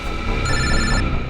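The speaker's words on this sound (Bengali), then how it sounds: "এই তো ফোন যাচ্ছে" A telephone ringing with a steady electronic ring tone, loud and close, set against a busy background noise with no talk.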